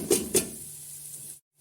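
Onions dropped into hot oil with garam masala for a palak methi chicken dish, two sharp close splashes of contact followed by a steady hissing sizzle that cuts off abruptly.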